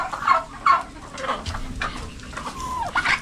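Chickens on a small poultry farm cluck in short, uneven bursts, several close calls overlapping one another with no talking.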